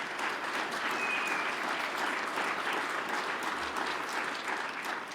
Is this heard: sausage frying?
no